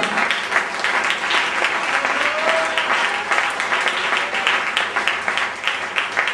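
A church congregation applauding, a steady dense wash of many hands clapping that carries on evenly and fills the room throughout.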